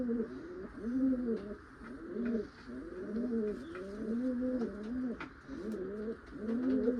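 A female pigeon with white eyes and a white beak coos in repeated low rolling phrases, about one every second, close and clear, with faint background clatter and no talking.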